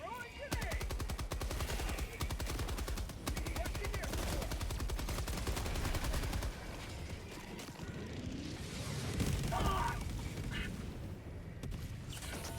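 Bursts of rapid machine gun fire rattle through a Helldivers 2 firefight, long rolling volleys with short gaps, loud and close, mixed with other game effects and a player's voice talking.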